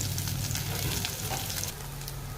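Onion goes into hot oil already tempered with mustard seeds, cumin and garlic, giving a brief, close, steady sizzle and crackle that eases slightly toward the end.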